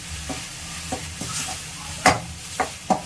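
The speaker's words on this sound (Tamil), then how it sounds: "இஞ்சி நல்லா பச்சை வாசனை போகிற அளவுக்கு நல்லா வதக்கிக்கலாம்." Ginger sautéing in a pan for a chicken gravy, with a steady sizzle and a few sharp scrapes of a spoon against the pan, close and alone with no voices.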